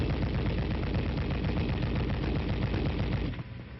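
An M73 7.62mm tank machine gun fires one long, continuous automatic burst, loud and close, and the fire cuts off abruptly near the end.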